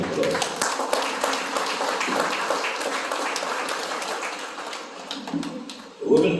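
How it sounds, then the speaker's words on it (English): At a Tamil institute awards event in 2023, an audience claps for the women in a dense, steady round of applause, with a voice briefly heard near the end. "So give all the women a big round of applause."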